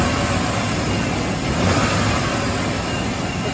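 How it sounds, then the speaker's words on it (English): A 1996 Chevy 4.3L engine revs on a snap of the throttle, a steady, loud mechanical roar with a slight swell midway through, continuous from start to finish with no voices. "So here's snap throttle."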